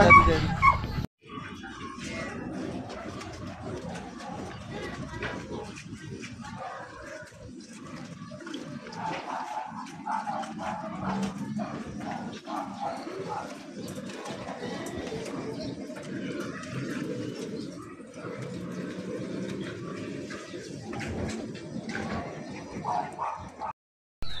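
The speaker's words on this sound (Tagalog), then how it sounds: "Gusto ko lang po ipakita sa inyo yung aking mga available na puppy" Several toy poodle and mini dachshund puppies barking and whimpering close by in a steady, busy stream, with a voice speaking over them.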